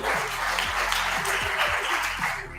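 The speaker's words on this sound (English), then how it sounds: "Let's give another round of applause to the startups and the judges" Audience applause for startups and judges at a San Francisco pitch night, a steady dense wash of clapping throughout, with a few lower thumps.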